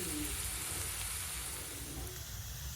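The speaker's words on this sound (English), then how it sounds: "as a true Southern cook, I'm going to use salted butter. Listen to that sizzle." Salted butter sizzles steadily in a pan on the stove, a continuous soft hiss with no voice over it.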